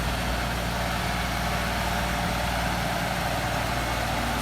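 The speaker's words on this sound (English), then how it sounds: "maneuver the tractor in between the rows of plants" A tractor pulling a shallow tiller through weeds between rows of plants in a field: a steady, close engine drone with a low rumble, running continuously with no talking.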